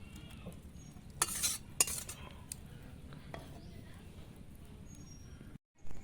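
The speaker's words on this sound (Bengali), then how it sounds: "নামিয়ে দেখছি আমি এই মাটির পাত্রটায় আমি রাখছি" Mustard-poppy pomfret fish curry being moved into a clay pot, with soft scraping and a few sharp clinks of a utensil against cookware over a low, quiet background.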